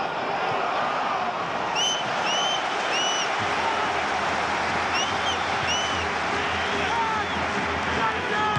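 Yeovil Town supporters cheer and chant at Wembley Stadium during the League One play-off final against Brentford, a dense, steady crowd roar filling the whole stretch, with whistles and a commentator's voice over it.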